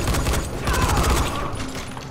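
Enemies fire guns in Dying Light, a dense, continuous volley of shots with mechanical clatter running throughout, loud and close, with no break in the gunfire.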